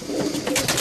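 Racing pigeons coo inside an aviary, a brief burst of soft, rolling calls heard close up with no voices over them.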